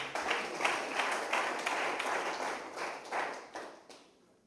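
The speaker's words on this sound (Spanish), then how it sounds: "Una ofrenda de palmas al Señor con todo el corazón." A church congregation claps together in a steady, rhythmic run of soft, fairly distant handclaps, offered to the Lord, fading toward the end.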